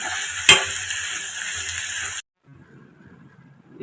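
Chutney ingredients fry with salt in a pan, giving a close, bright sizzle with a sharp utensil clink early on, before cutting off abruptly into near silence with faint rustling.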